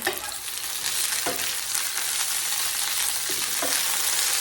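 Curry leaves sizzle loudly in hot oil for a tempering, a dense close-up crackle with a few brief stirring clicks, no voices.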